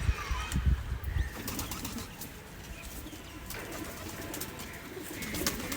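A golden male Giribaz pigeon, held in the hand, gives soft coos amid flurries of wing flapping and rustling, close and moderately loud against background noise.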